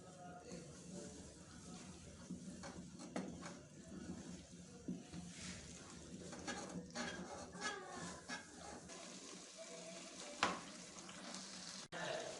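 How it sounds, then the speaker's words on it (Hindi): Semolina for strawberry halwa fries in a pan while a spoon stirs it, giving a steady close sizzle with scraping stir strokes and occasional clinks of the spoon against the pan. "अभी हम इसके अंदर आहिस्ता आहिस्ता करके ये सूजी ऐड कर देंगे और इसको चम्मच को हिलाते जाएंगे।"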